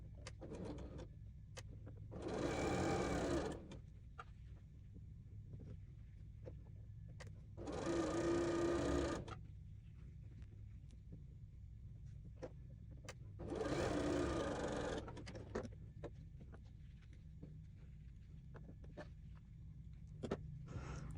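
A sewing machine runs through quilt fabric in three short, even bursts of a few seconds each, close and clear over a low steady background hum, with quiet gaps between the runs.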